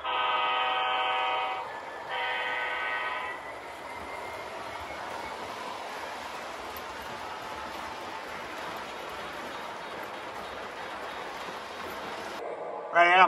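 Two short tonal horn blasts sound, then a model Amtrak Pacific Surfliner locomotive runs forward with a steady, quiet rolling hiss and rattle up close.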